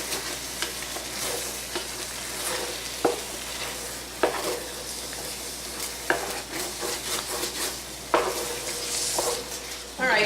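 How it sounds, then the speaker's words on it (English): A spoon stirs and scrapes browned, cooked flour off the bottom of a pot while making Swiss steak. Steady sizzling runs throughout, with sharp scraping knocks against the metal every second or two. "let's get this all stirred up, and we want to make sure that we get everything off the bottom"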